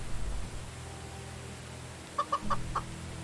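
Hens cluck in the farming game Medieval Dynasty, a handful of short clucks near the end over a faint, steady background hum.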